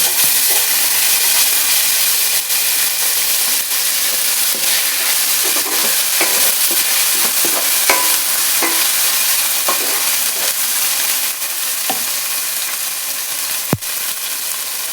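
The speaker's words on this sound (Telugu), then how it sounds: "ఆనియన్స్ ఫ్రై అవుతుంది." Onions fry with ginger garlic paste in a pan, giving a continuous close sizzle and hiss with occasional light stirring clicks, no talking.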